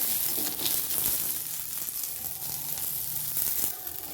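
Chopped onion sizzling in a pan while being sautéed to a golden colour, a steady, fairly loud frying hiss with faint scraping throughout, no voices.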